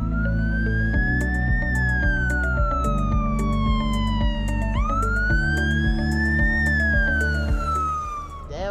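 A Norwegian emergency vehicle on a call-out sounds its siren, loud and close, in long rising and falling wails with a horn-like blare over a low engine rumble.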